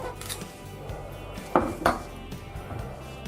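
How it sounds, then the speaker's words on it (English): Knife chopping through cilantro stems on a cutting board while a chili sambal for seafood is prepared, two sharp close knocks standing out amid quiet kitchen clatter. "The cilantro, just cut the big parts of the stems off."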